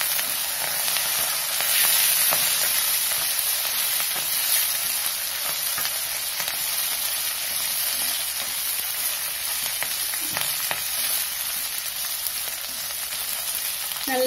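Garlic and ginger are sautéing in a pan, giving a loud, close, continuous hissing sizzle with faint stirring clicks scattered through it and no talking.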